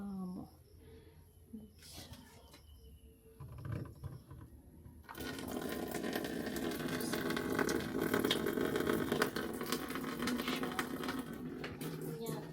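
Tap water gushing steadily into a basin for hand-washing laundry, starting about five seconds in and running loud and continuous to the end, after quieter clatter and a few low voice sounds.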